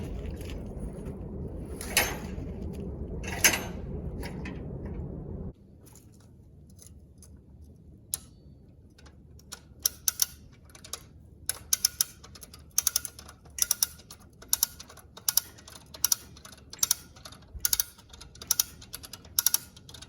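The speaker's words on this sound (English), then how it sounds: "I'll get a strap or a ratchet strap or something tied to that to my come along and use that to pull it tight" Come-along ratchet clicking as it draws chain link fence tight, sharp metallic clicks in an irregular series, picking up pace toward the end after a muffled stretch of handling noise.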